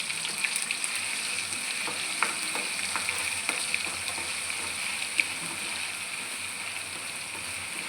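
Ginger garlic paste fries in hot oil for chicken pickle, giving a steady close sizzle. Light clicks and scrapes of stirring run through it, and no one speaks.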